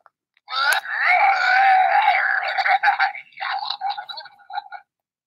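Several small electronic creature toys switched on at once, giving off a close, continuous run of warbling, moaning synthetic cries that break into choppier chirps before stopping.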